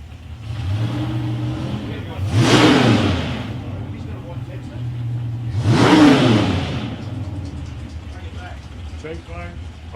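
Race car engines rev hard at South Coast Raceway in 2021. Two loud surges swell and fade a few seconds apart, with engines droning between them and a voice talking underneath.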